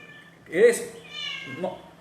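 A cat meows twice nearby, a clear drawn-out call followed by a softer shorter one, mixed with a person speaking.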